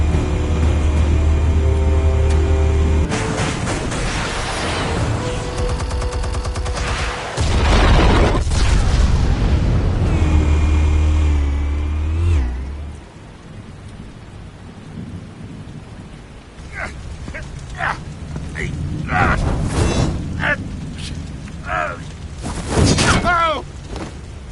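Explosives detonating in the Telltale Batman video game: loud, heavy rumbling blasts and booming debris noise in the first half, fading into quieter crackling and scattered impacts, with voices speaking later.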